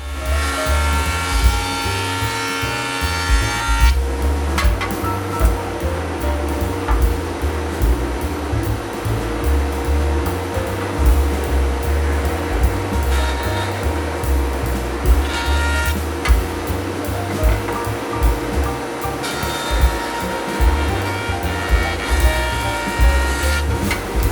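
Wood stock for nightstand sides and tops being milled, a loud sustained machine whine that drops out briefly and restarts, with rhythmic rumbling and chattering as boards pass through.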